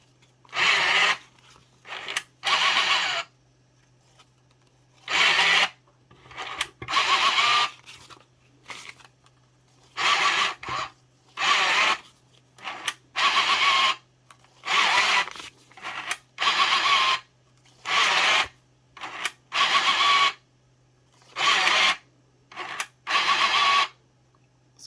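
A TB74 banknote counting machine runs through Philippine polymer bills in repeated loud whirring bursts of a second or so, separated by brief quiet gaps, with a steady low hum underneath.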